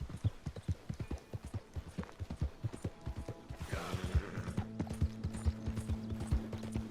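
Horse hooves in Red Dead Redemption clip-clop at a steady walking rhythm, close and distinct, with a brief mechanical rattle midway and a low droning tone joining later.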